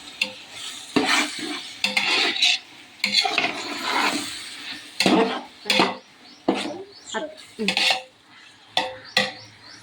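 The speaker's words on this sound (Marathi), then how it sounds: "आता इथं फोडणी दिलेली आहे आणि आता छान असं परतू" Onions are stirred and sautéed in a pan after tempering in a home kitchen. Close, uneven scraping strokes repeat over a soft sizzle, with a faint voice at times.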